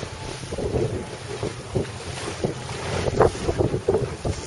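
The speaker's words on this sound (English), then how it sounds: "Jörg and Christian sailing before the start" 505 dinghies sail about before a race start, with steady wind buffeting the microphone, water sloshing against the hull and occasional flaps and knocks from the rigging.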